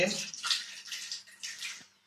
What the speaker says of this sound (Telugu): ఇది యాక్చువల్ నీటిలో మునగలేదు కదా, నేను ముంచుతున్నాను దీన్ని